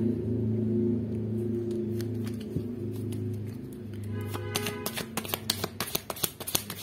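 Tarot cards shuffled by hand, a soft rustle at first that turns into quick, crisp riffling flutters and taps near the end, close and clear with no talking.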